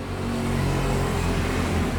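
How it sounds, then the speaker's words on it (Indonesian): A Timor car engine idles steadily up close while its distributor is adjusted, giving a constant low rumble with a faint rattling knock and no talk. "maka bunyi mesin akan semakin menggelitik"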